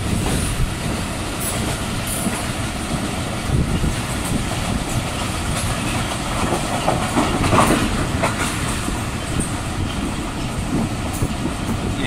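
Train rolling along the rails, a steady loud rumble with rhythmic clickety-clack of the wheels heard from on board, continuous throughout with no talk.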